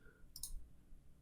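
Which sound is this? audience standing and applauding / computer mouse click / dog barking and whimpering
computer mouse click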